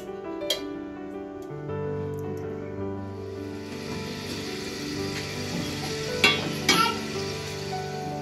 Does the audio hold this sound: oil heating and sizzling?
yes